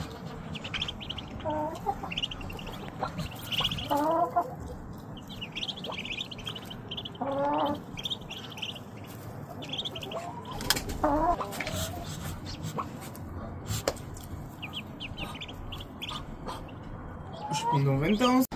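Newly hatched chicks in a henhouse, with repeated high peeping chirps scattered throughout alongside clucking hens, all under a person talking.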